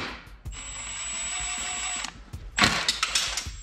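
A hand tool works a 12 millimeter bolt loose on a Subaru BRZ during a turbo kit install: a steady whirring mechanical run, a short pause, then a burst of clicking and clattering metal close by.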